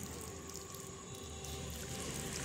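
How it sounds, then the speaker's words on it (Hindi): Water poured steadily into sugar while making cold coffee at home, a faint continuous trickle and pour heard close up for a couple of seconds. "इसमें पानी डाला जा रहा है"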